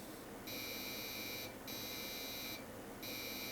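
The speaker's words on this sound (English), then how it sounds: "we're getting 3 error beeps" A Commodore 486SX25 motherboard with 16 MB of memory sounds three POST error beeps, high thin tones in an even rhythm over a steady background hiss.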